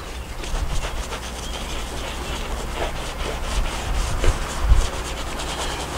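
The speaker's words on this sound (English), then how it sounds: "Go over the bottom like this, the sponge action, and then all over." A sponge scrubs the sole of a leather Fila Grant Hill 96 sneaker, giving steady wet rubbing strokes in a continuous rhythm, close and moderately loud, with no talking.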